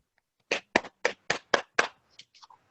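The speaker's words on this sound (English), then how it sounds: "give him a big clap" Six evenly spaced claps for a guest speaker at an evening talk, crisp and close, followed by a few softer scattered taps, with no talking over them.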